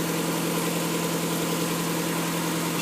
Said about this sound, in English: Now the engine's running. This is idle speed.